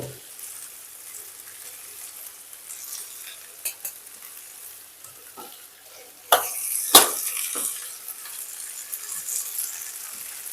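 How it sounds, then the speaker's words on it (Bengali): Malabar spinach and eggplant being stirred and fried in a pan: a soft steady sizzle with scraping stirs and a few sharper spatula clanks partway through, close and moderately quiet, with no talking. "এরপর একটু সামান্য নাড়াচাড়া করে এতে আমি কেটে রাখা বেগুনগুলোকে দিয়ে দেবো।"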